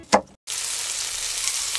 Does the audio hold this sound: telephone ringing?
no